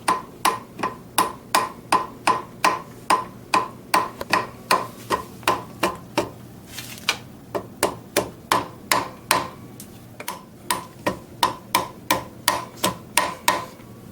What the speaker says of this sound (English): what I'm going to do is tap it with a lead hammer